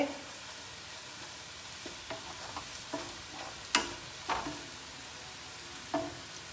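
Golden-brown onions fry in a pan as dry spices are stirred in: a steady hiss of sizzling oil under intermittent scraping and clinking strokes of a spoon, close-up with no voices.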